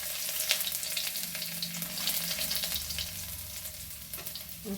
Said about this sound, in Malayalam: കരിവേപ്പില ഇട്ട് ഇഞ്ചി ഇട്ട് കൊടുത്തു. ഇഞ്ചി ഒന്ന് മൂക്കട്ടെ